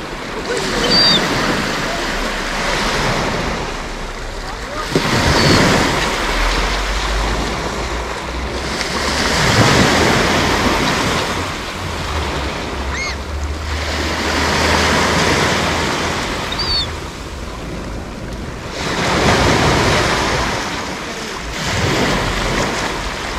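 Sea waves breaking and washing up on a beach at Lazarevskoye, Sochi, in repeated surges every few seconds, with wind rumble over the microphone and a faint gull call in between.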